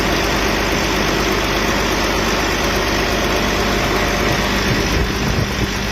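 A Volvo D13 diesel truck engine idles steadily after an injector misfire repair, a loud, even, continuous rumble throughout with no speech.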